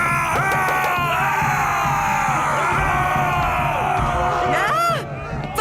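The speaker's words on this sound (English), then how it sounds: "Vikings! Running around and shouting." Cartoon Vikings run around shouting, a loud burst of overlapping yells, whoops and bellows from a crowd of voices, with a frantic babble that drops off briefly near the end.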